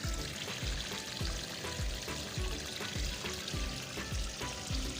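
Water splashes and patters steadily onto a kitchen garden bed of coriander and onions, a continuous spray-like wash with a faint repeating low thump underneath.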